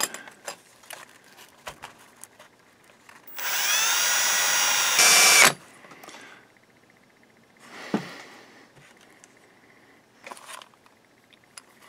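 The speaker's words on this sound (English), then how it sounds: "Let's drill from this side." A power drill whines loudly for about two seconds amid quiet clicks and handling noises while working on a Harman Kardon SR600 receiver, followed by a few shorter bursts of drilling.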